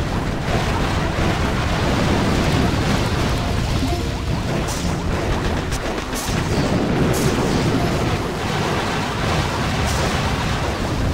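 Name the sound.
boom cannons firing in video game Boom Beach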